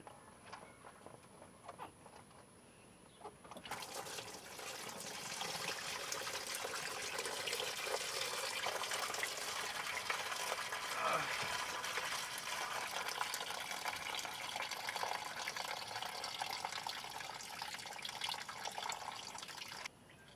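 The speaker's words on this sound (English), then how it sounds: "get you a little oil pan or something to catch all the coolant that comes down." Coolant from a Nissan 350Z radiator drains into an oil pan with a steady, gushing trickle of liquid. The pour starts abruptly after a quiet moment and stays close and constant until it stops at the end.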